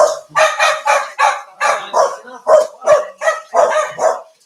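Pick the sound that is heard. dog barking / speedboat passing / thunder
dog barking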